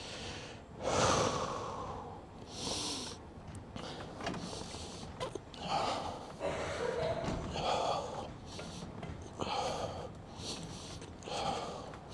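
Heavy breathing during a workout stretch: loud, close breaths and snorting exhales come in repeated bursts roughly every second or two, with no other sounds.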